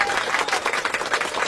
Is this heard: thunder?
no